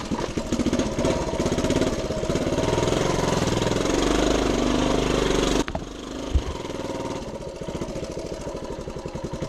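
A 1976 Honda TL250 vintage trials motorcycle crawling up a trail hill in second gear, its single-cylinder engine thumping steadily and loud up close before cutting to a quieter, lumpier idle with a sharp knock.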